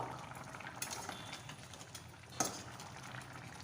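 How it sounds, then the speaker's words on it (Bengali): Rohu fish kaliya curry with potatoes and garam masala simmering in a pot, giving a soft steady bubbling with a brief clink of a spoon partway through, quiet and close with no talk. "আবার কিছুক্ষণ ভালো করে ফুটিয়ে নেব"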